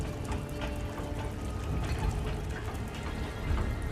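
Water rushing and rising fast in a flooding coal mine, a close, churning pour with gurgling surges and clanking mechanical knocks, fairly quiet overall.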